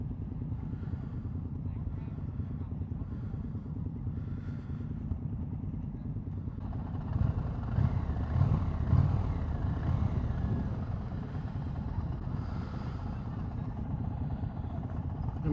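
A 2020 Indian Challenger Dark Horse motorcycle rides along, its engine a steady low rumble that swells louder about halfway through as the bike pulls through the gears.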